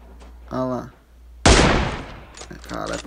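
Long-range gunshots in the video game PUBG Mobile, with one sharp loud crack that fades over about a second, between bursts of excited talk.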